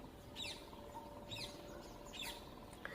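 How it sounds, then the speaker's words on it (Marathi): Birds chirp in a freshly swept home courtyard, with a few short, clear tweets repeating at a steady pace over a quiet outdoor hum. "अंगण स्वच्छ केल्यानंतर खरंच खूप प्रसन्न वाटते आणि त्यामध्ये या पक्ष्यांचा किलबिलाट"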